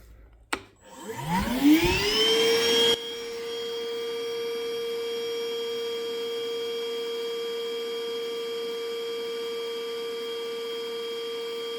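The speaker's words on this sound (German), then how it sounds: "Und jetzt schalte ich noch den Staubsauger ein." Vacuum cleaner running off a DIY portable power station: a click, then a rising motor whine that settles into a steady, loud, tonal hum and continues alone.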